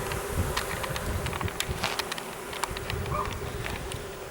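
Honeybees swarm around a hive frame with honey taken from another hive, producing a dense, continuous buzz close to the microphone with individual bees zipping past in short louder bursts.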